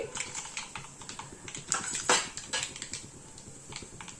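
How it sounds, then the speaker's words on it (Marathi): Mustard seeds hit hot oil in a kadhai for tempering, giving a brisk run of close, irregular pops and crackles, with a few louder bursts in the middle. "तेल तापलं की 1 चमचा टाकून घ्यायची मोहरी"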